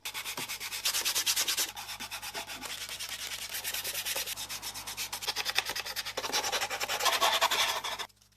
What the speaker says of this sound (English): realizing that I probably should have sanded the walls before attaching